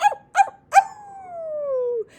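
A voice imitates a dog during a read-aloud children's story, with three quick close barks and then a long, slowly falling howl.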